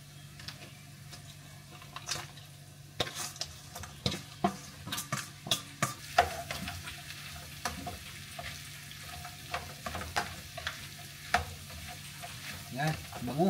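White onion and pork mask for sisig sizzle steadily in a pan, and a utensil scrapes and clacks as it stirs them in irregular bursts, up close.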